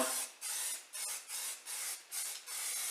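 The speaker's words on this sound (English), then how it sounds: "I sprayed it with just rattle can primer" Rattle can primer sprays onto a Range Rover L322 cup holder in six quick hissing bursts of roughly equal length, close by with short pauses between passes and no talking.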